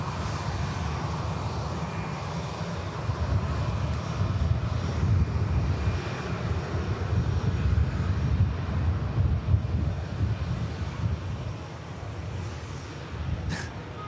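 Cathay Pacific Boeing 747 taxiing toward runway 23 left at Manchester Airport, its jet engines producing a steady, moderately distant roar with some wind noise on the microphone.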